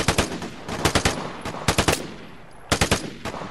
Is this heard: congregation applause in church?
no